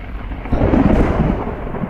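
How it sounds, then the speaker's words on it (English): Thunder rumbling through a storm, a sound effect in an audio play staging The Tempest; a low, broad roll builds and swells midway, then holds steady, filling the whole stretch with no voices. "Alas, the storm is coming in."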